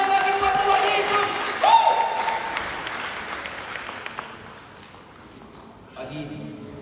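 A church congregation at a New Year service applauds together, a broad wash of clapping and crowd noise that swells, then fades toward the end, with voices mixed in.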